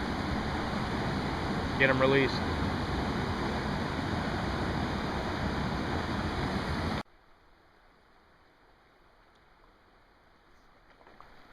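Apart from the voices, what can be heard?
waterfall rushing into deep scour hole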